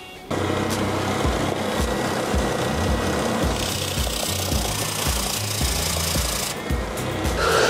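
Steady, continuous abrasive rasping of sandpaper being worked over wood, loud and close, running unbroken with a slightly rhythmic scrubbing texture.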